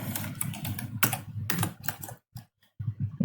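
Rapid typing on a computer keyboard, close and fairly loud, with clustered bursts of key clicks and short pauses, then a brief silence before the keystrokes resume.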